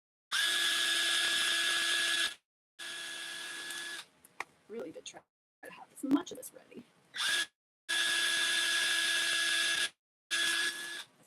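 A high-pitched power drill whirs in several long bursts separated by short pauses, with a person speaking briefly between the runs.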